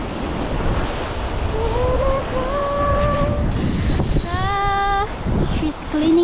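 Ocean surf rolls onto Bikini Beach in Phan Thiet, Vietnam, as a steady, loud wash roughened by wind buffeting the microphone, with brief tonal calls or voices rising over it partway through.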